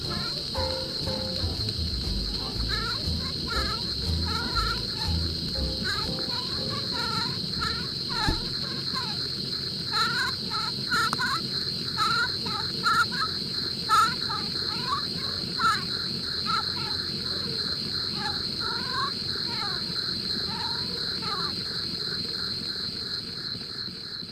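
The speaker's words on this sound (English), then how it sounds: "that was Mae Starr Talking Phonodoll, created in 1920 by Madame Hendren of the Averill Company" A 1920 Averill Mae Starr Talking Phonodoll plays back its cylinder recording, a thin, warbling sound riding under a constant high hiss and crackle of old playback, steady and moderately quiet for the whole stretch.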